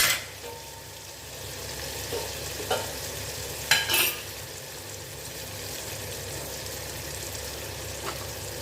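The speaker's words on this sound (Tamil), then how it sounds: "வெங்காயமும் அரைஞ்சிருக்கு தக்காளியும் கொஞ்ச நேரம் வதங்கிட்டும் பார்க்கலாம்" Onion and tomato sizzle steadily as they sauté in a pan while a utensil scrapes and clinks now and then, close by with no talking.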